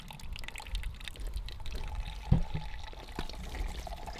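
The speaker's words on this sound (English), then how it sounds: "So Charles just started pressing, and already the juice is running." Apple juice runs from a cider press into a jug, a soft steady trickle and pour with faint drips and a small clunk partway through, quiet and close.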